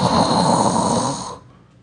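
A stand-up comedian on stage imitates a loud snore with his voice, one long rasping breath close to the microphone that fades out at the end.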